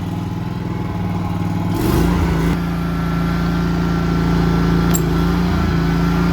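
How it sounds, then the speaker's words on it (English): A Scag walk-behind mower engine runs close by with its blades engaged and no belt fitted, a loud steady drone with a clunk and a surge in pitch partway through. "I have the mower running here, and we're just going to try and engage the blades without the belt"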